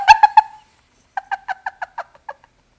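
Player characters in the video game Sky: Children of the Light give chirping calls: three quick bright tonal chirps, a short pause, then a run of about nine softer, evenly spaced chirps.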